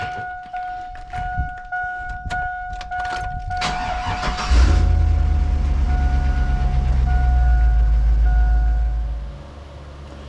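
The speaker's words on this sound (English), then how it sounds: "All right, I'm gonna go ahead and crank up my ride." A 2000 Chevrolet Silverado truck engine cranks and starts at about 4.5 seconds after some clicks and light footsteps. It catches with a loud, close rumble and settles into a steady idle that lasts several seconds before dropping off.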